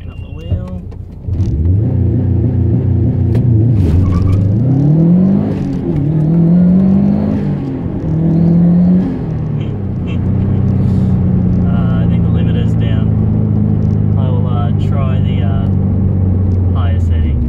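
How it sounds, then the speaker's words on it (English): A car engine revs repeatedly during a launch control attempt, rising and falling in pitch and then holding a steady, loud drone from close inside the cabin, with a person talking over it. "Attempting launch control."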